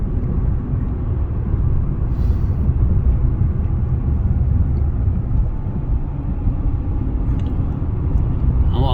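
Steady, low engine and road drone from inside a Fiat 500 1.2 car driving on a cool morning before the engine has warmed up, continuous and unbroken throughout.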